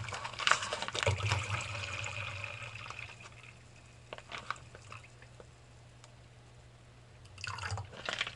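Water streaming from a squeezed water filter held upside down, an uneven close trickling and splashing that swells and fades in bursts.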